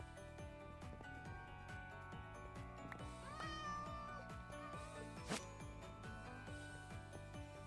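A video game cat meows several times in short, rising calls over a steady musical background with faint mechanical clicks.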